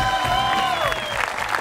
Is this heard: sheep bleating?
no